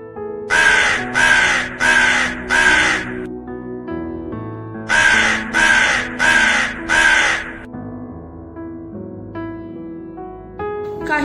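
Two bursts of four loud, harsh crow caws each, evenly spaced, sounding as an effect in a church skit, separated by quieter musical tones.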